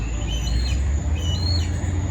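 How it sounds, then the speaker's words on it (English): A hawk calls from a tree in a garden planted with natives, giving two thin, high calls some distance off over a steady wash of outdoor background noise. "You can hear a hawk calling for one of the trees right now."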